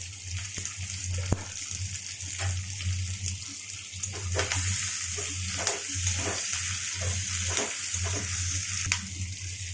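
Onion, tomato and capsicum sizzling in a pan for chilli fish, a continuous close frying hiss with intermittent stirring scrapes and clatters, no talk.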